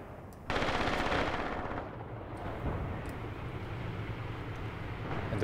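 Sustained gunfire from the Graviteam Tactics war game roars in as a dense, rapid burst after a short lull, then settles into a continuous rumbling barrage of shots and distant booms.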